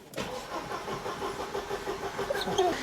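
A Mercedes W202 C220 engine cranks briefly and catches quickly, then settles into a close, steady idle.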